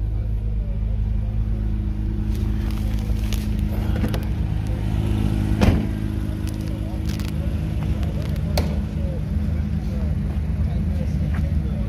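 A deep, steady engine hum drones inside the cabin of an Acura NSX pace car at the Long Beach Grand Prix, with a few brief clicks and bumps over the continuous low rumble.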